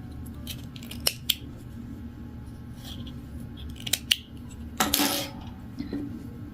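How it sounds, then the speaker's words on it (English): Scissors snip through crochet yarn while a one-row repeat beanie is being finished: a few sharp, close metallic clicks at separate moments, then a quick rasping cut near the end, over quiet room tone and with no talking. "Cut the yarn."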